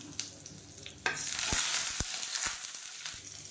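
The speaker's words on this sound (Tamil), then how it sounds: "கடுகு வெடிக்க ஆரம்பிக்குது." Mustard seeds, cumin and curry leaves sizzle and crackle in hot oil for kara chutney, with sharp pops of bursting seeds over a steady frying hiss, close and loud.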